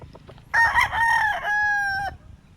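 A Kelso Sweater gamefowl rooster gives a single loud, close crow lasting about a second and a half, with a rising opening and a long held final note over quiet background clucking.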